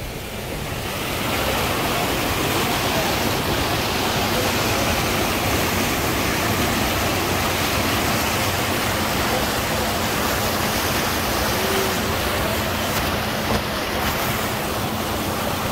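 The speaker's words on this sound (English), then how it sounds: "Time for our river crossing." River water rushing steadily and loudly during a river crossing at a guest farm in the Eastern Cape highlands, a continuous broadband roar with wind buffeting the microphone and no voices.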